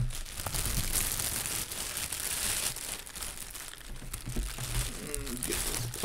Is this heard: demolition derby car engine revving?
no